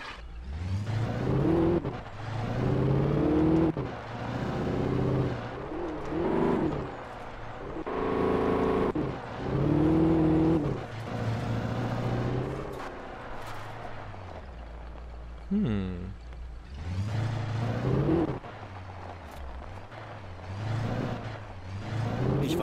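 A car driving in the video game Alan Wake, its engine rising and falling through repeated accelerations and gear changes, loud and close, with a brief screech midway and no talk over it.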